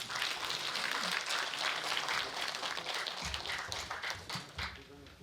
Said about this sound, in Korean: 우리 위원장님 나오실 때 힘찬 박수 한번 부탁드리겠습니다